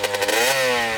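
A dirt bike engine catches after a kick start with a few sputtering pops, then settles into a steady, close, buzzing rev.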